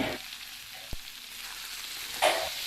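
Soybean chunks with turmeric and salt fry in a pan, giving a soft, steady sizzle with one sharp clink near the start and a brief louder stir toward the end.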